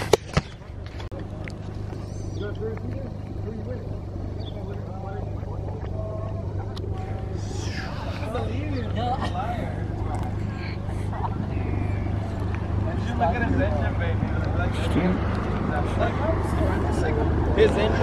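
Road and engine noise from a Volkswagen MK7 Golf R on a highway, picked up by a camera mounted on the front, with a steady low rumble and wind roar under intermittent talk.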